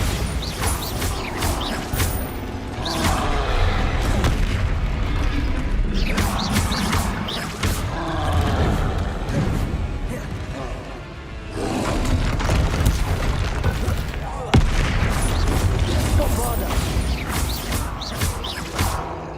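Bombarda explosion spell in Hogwarts Legacy, a series of loud booming blasts with crashing, creaking debris, coming in several heavy bursts separated by short lulls, heard alone with no talk.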